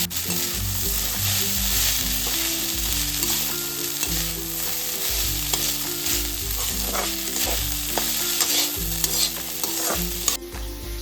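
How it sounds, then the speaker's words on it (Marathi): Leftover rice tempered with spices as phodnicha bhat is stir-fried in a pan. A constant close sizzle runs under rhythmic scraping and tossing strokes of a spatula, with no one speaking. "हा फोडणीचा भात ना आपल्याला 2-3 मिनिटं आता अगदी छान असं परतून घ्यायचा आहे"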